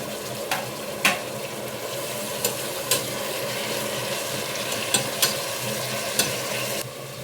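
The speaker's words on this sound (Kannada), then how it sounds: "ಎಣ್ಣೆಲೆ ಹಾಕ್ಕೊಂಡು ಫ್ರೈ ಮಾಡ್ಕೊಳ್ಳಿ" Fenugreek leaves frying in oil for menthe bath, a soft continuous sizzle broken by about eight spatula clicks and scrapes against the pan at irregular intervals, with no talking.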